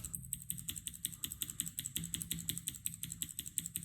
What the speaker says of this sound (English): Now we're at another clicky switch, the Gateron Greens.